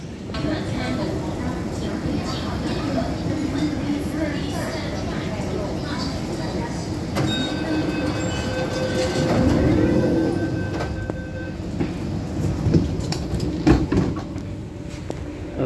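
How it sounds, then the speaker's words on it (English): A Hong Kong MTR Tung Chung Line K-Train hums and rumbles as it pulls away, with brief tonal whines and clatter, close by inside a station. "wait for the train to leave"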